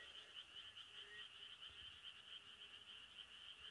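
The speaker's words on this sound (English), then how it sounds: "You can hear the frogs." Frogs croak at community farms near an apartment block: a dense, continuous chorus of high trilling calls, faint and steady, heard from a distance outdoors with no one talking.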